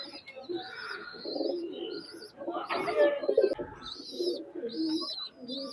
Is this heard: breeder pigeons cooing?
yes